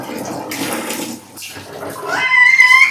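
Clothes being washed by hand splash and slosh in water in bursts, with gurgling swishes growing louder toward the end, close by.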